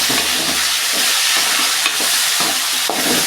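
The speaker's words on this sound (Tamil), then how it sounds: "பூண்டு வெங்காயம் நல்லா வதங்கட்டும். நம்ம இப்போ தக்காளி போடாமல் இப்போவே சுண்டைக்காயும் போட்டுக்கலாம்." Turkey berries sautéing in hot oil with garlic and onion make a loud, continuous close sizzle with a few soft stirring scrapes underneath and no voices.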